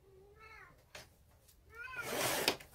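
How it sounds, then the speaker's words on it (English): A cat meows twice in a craft room where cards are being made, one drawn-out call early and a louder, harsher one near the end, with nobody talking over it. "Okay, now we have a kitty cat"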